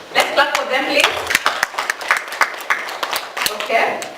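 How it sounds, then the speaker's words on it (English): Audience clapping in a personal branding class, irregular claps from a small group mixed with voices talking and cheering over them. "Let's clap for them, please."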